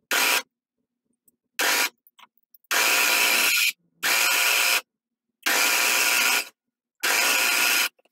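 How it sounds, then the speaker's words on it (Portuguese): A sewing machine stitches a seam through green fabric on a towel, running in five or six bursts of steady buzzing, each lasting about half a second to a second, separated by short silent pauses, close and fairly loud with no talking. "E aí eu vou passar uma costura aqui no tecidinho verde."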